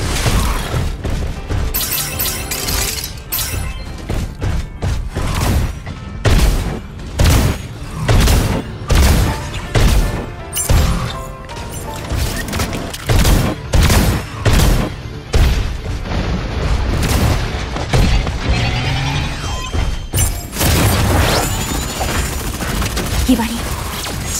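Gunfire and explosions in the mech shooter video game Super Mecha Champions, repeated loud blasts and crashing shots in rapid bursts throughout, with voices faintly underneath.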